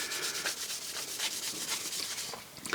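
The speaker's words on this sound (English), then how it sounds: "let's rub this down here and see" A steel tool rubbed down with a Snap-on Formula 1920 steel wipe, giving a steady, close scrubbing and rubbing sound with brief strokes, alone without talk.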